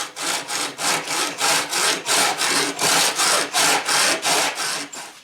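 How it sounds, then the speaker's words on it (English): Soft aluminum trim for a teardrop trailer being cut with a hand saw, a steady rhythm of about a dozen and a half back-and-forth strokes, close and loud with no talking. "So let's get some aluminum cut."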